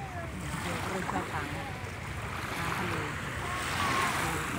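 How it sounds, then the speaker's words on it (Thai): Morning waves roll in at Bang Saen beach under strong wind, a steady broadband roar that holds throughout, with wind buffeting the microphone and faint voices now and then in the distance. "บรรยากาศตอนเช้านะครับหาดยางแสน โอ้โหทำไมมันแรงจัง"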